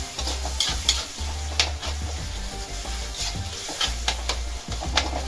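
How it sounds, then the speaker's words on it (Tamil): A ladle scrapes and mashes crab masala in a frying pan, with a steady sizzle of oil under repeated rubbing strokes and occasional sharper knocks against the pan, close and fairly loud with no talking. "நம்ம வந்து அந்த கரண்டி வச்சு நல்லா மசிச்சு விட்டுடலாம்."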